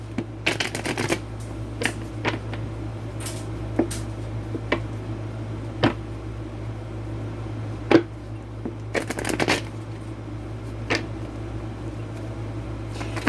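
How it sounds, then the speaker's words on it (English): A deck of oracle cards is shuffled by hand, with quiet, irregular bursts of riffling and slapping close by and short pauses between them. No one speaks. "So let me shuffle a little bit."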